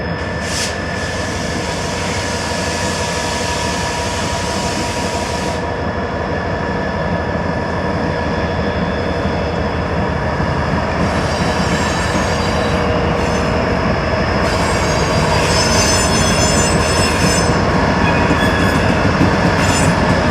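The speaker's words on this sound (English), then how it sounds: "we now see the headlights of an approaching Norfolk Southern westbound train" A Norfolk Southern westbound freight train draws closer, a loud steady roar of rolling railcars with sustained wheel squeal and high metallic ringing building slightly over the span.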